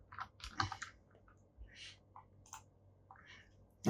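A few light clicks and taps on a computer keyboard, like a quick Ctrl S shortcut, soft and scattered in a quiet room with no talking.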